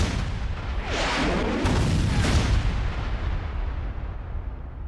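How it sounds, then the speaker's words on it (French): Cannon fire with cannonballs coming from behind and landing nearby: a run of heavy, overlapping booms and crashing impacts over about two seconds, then a long rumbling fade. "Il se trouva sous le feu de boulets de canon qui arrivaient de derrière et qui tombaient non loin de lui."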